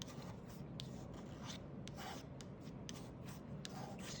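Paint being scraped up and stirred on a palette, a steady close rubbing rasp with repeated strokes and no talk.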